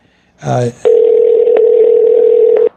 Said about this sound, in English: Jack Reiss, pick up the phone, my friend, because here we are.